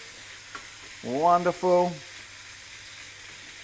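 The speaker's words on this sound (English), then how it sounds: "our bacon is starting to sizzle" Bacon strips sizzling in a frying pan for breakfast burritos: a faint, steady frying hiss runs throughout, with a brief spoken word over it.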